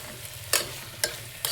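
A spoon stirs ground masala paste into chicken curry in a pan over a soft sizzle, with three sharp scraping strokes spaced about half a second apart.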